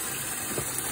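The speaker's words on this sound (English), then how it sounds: "I'm going to just do some hot water" Very hot tap water runs steadily from a faucet to rinse eggshells, a continuous close hiss and gush lasting about a second.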